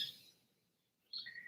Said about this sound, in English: you guys hear like loud ass birds in the background